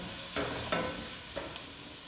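Garlic sizzles and caramelizes in hot oil in a pan for an Italian stockfish recipe, a steady close hiss broken by a few soft stirring scrapes.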